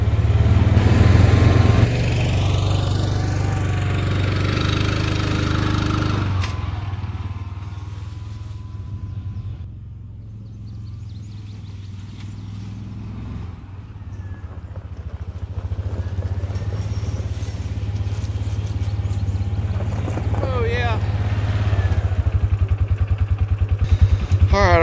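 Kawasaki Mule SX XC 4x4 utility vehicle with a limited-slip front end, driving off-road over uneven ground, its small engine droning steadily nearby, dipping quieter mid-clip and then rising again.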